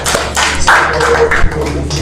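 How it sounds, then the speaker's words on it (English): A seminar audience applauding, a short burst of scattered hand claps close by lasting about two seconds. "give yourself a round of applause for being here"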